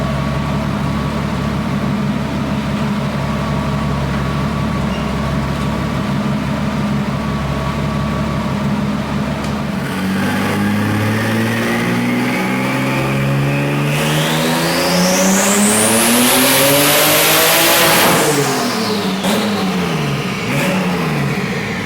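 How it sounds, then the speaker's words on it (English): Car engine on a dyno during a power pull after a TDI clutch install: a loud, steady idle drone gives way to a long, rising rev climbing to a high-pitched scream, then drops off sharply, with no talking. "we're on the dyno now. I'm about to make a power pull"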